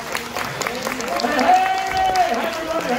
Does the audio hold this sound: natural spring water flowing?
no